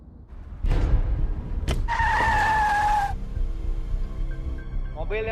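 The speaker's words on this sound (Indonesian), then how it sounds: "Mobil yang sedang mendekat" A car approaches, and its tires skid with a loud, sustained screech over a rumbling engine and road noise before the squeal cuts off, leaving the vehicle running.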